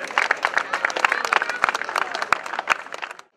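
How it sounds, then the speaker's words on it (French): An audience applauds a Laval cyclist at an award ceremony during the Essor breton race, with dense, close clapping and scattered sharp claps for about three seconds before it cuts off abruptly. Voices are faintly audible in the crowd. "On va l'applaudir très fort, le coureur de Laval 53"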